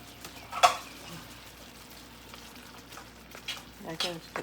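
Eggplant frying in a pan: a quiet, steady sizzle with a brief sharp clatter early on and a short burst of voice near the end.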